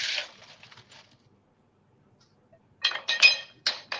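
Ice clinks against a glass while it is chilled for a rum cocktail, a few light clinks at the start, then a pause, then a brighter burst of clinking near the end, close and fairly quiet with no voices.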